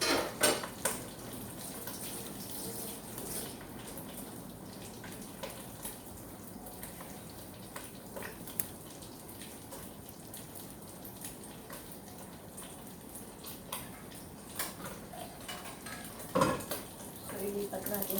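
Pancit gisado being sautéed in a pan, with a quiet, continuous sizzle under scattered metallic clinks and scrapes of a utensil stirring against the pan.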